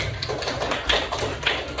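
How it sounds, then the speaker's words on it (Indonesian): Students in a classroom applauding a classmate named Mira after she answers, a dense, steady patter of many hands clapping close by, with no voices over it. "Oke, beri tepuk tangan untuk temannya."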